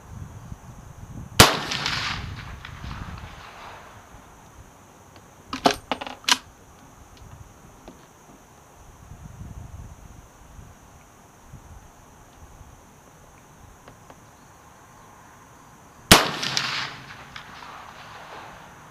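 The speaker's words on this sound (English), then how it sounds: "I'm shooting at a 6-inch target at 100 yards." Marlin Model 62 short-stroke .30 carbine rifle fired at a range toward a 100-yard target: three sharp shots, two spaced well apart, another pair close together in the middle, loud against faint outdoor background.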